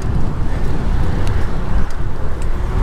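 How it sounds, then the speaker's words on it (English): Strong wind rushes over the microphone on the New Shingle Creek Trail in Orlando, Florida, as a loud, continuous buffeting roar with no voices. "Damn, I wouldn't have came this way if I knew it was this windy."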